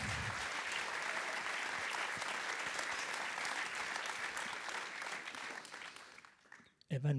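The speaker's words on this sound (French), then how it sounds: "Oui, ça s'applaudit" Sustained audience applause fills a hall at a performance event in La Roche-sur-Yon, a dense steady wash of many hands clapping that fades out near the end.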